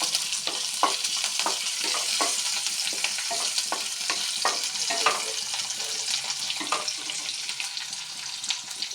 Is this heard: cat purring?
no